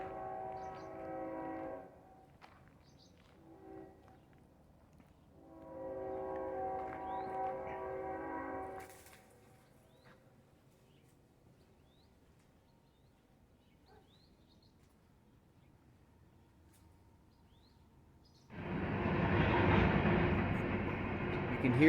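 Near a disused motel in Wells, Nevada, a train horn sounds in long blasts from a distance, followed by a quiet stretch and then the loud broad rumble of the train rolling past.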